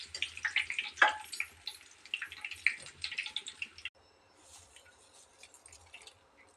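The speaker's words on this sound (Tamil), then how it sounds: "ஃபைனலாக நம்ம கருவேப்பிலையை போட்டு பொரிச்சு எடுத்துடலாங்க" Curry leaves dropped into hot oil while frying potato 65 give a burst of crackling, spitting sizzle for about four seconds. It then falls to a faint, scattered sputter.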